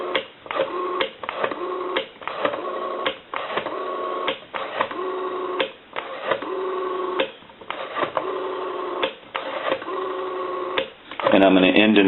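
A Western Electric 5302 rotary telephone being dialed, its dial winding and returning in a steady series of ratcheting pulses over a continuous line tone, ending in a brief burst of louder noise.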